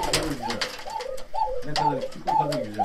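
Sivas turtle doves in an indoor dove coop give soft, repeated rolling coos, several phrases in quick succession, close and clear with faint background noise.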